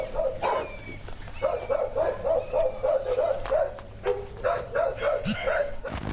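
Several dogs bark repeatedly in a breeder's kennels, a steady run of sharp, fairly close barks with brief pauses and a few higher yips, over a faint low background hum.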